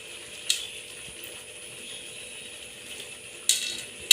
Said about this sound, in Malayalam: നല്ലവണ്ണം ഇളക്കി കൊടുക്കുക.